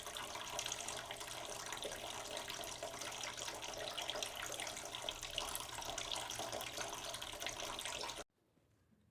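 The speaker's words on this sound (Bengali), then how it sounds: "এর ওপরে একটু এবার আমি অল্প করে জল দিয়ে দেবো" Water pours in a continuous rushing stream into a pan of spiced rui fish in mustard curry, steady for about eight seconds, then cutting off abruptly to near silence.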